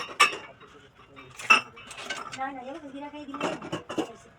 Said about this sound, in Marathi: आता मी कप घेतोय आणि आता चहा पिऊन घेऊया